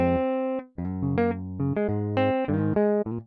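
Afrobeats guitar line played dry without reverb, a short melodic phrase of plucked notes with clean, clipped endings, close and upfront.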